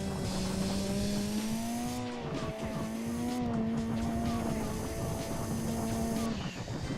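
A race car in the video game Gran Turismo 2 driving over jumps, a steady high-revving engine drone with pitch shifts as it lands and gear changes, loud and continuous throughout.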